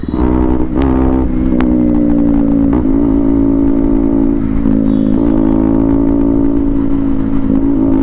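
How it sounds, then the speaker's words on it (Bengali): A motorcycle engine drones loudly and steadily throughout, with small shifts in pitch as the bike rides along, close to the listener. "এখন আমি আর সৌভিক ভাই একটু রাইড দিয়ে ঘুরে আসি"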